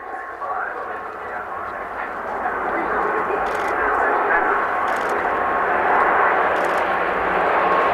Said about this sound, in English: So the Hurricanes are on the wings. The Spitfires led by the Mark 16 in the center, on the center line.